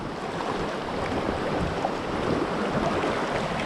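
Floodwater from a swollen river near Potoroo and Ellenborough Falls rushes past close by, a dense, steady roar of churning water with no pauses, loud and unbroken throughout.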